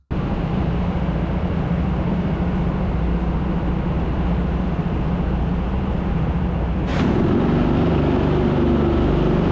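Go-karts race at TeamSport Sheffield, their engines forming a steady, loud, continuous drone that holds without a break. It grows slightly fuller and louder near the end.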